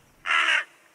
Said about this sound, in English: A crow landed on a nearby wall beyond the apple tree